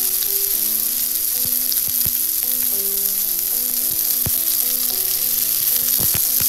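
Angus beef sirloin steak sizzling loudly in an oiled pan, a constant close frying hiss with occasional sharp crackles and pops, with no talk.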